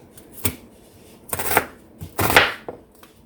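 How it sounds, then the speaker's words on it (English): Onions being sliced with a knife on a cutting board for burgers, heard as three or four crisp, separate cuts knocking against the board, close and fairly loud with short quiet gaps between them. "So instead of chopping it, I just want to have them in slices."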